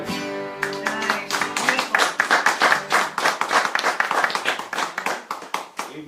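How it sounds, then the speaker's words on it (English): Rhythmic hand clapping at a live music session, crisp regular beats fairly close, starting as a sung note fades and carrying on in a steady pulse. "Even got him standing up clapping now"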